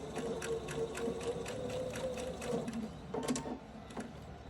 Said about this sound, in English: now we are sewing along that folded line, hopefully 3/8 of an inch